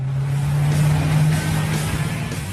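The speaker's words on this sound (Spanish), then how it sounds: "Cuando pones en marcha el motor, evidentemente la cabina se inunda con el sonido del motor." Twin-turbo 5-litre V8 of a Koenigsegg Agera supercar idling as heard inside the cabin, a steady low droning hum with a constant loud rumble throughout.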